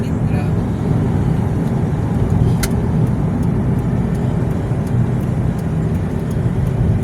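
Highway traffic in Sharjah at midday rushes past continuously, a dense roar of cars and heavier vehicles close by with no clear voices.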